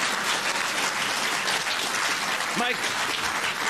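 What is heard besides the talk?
studio audience applause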